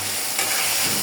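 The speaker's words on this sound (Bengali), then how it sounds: "সব উপকরণ ভালো করে কষিয়ে নিব" Ingredients for a pabda fish chorchori sauté in a pan. A close, dense, hissing sizzle runs unbroken through the short moment, with stirring and no voices.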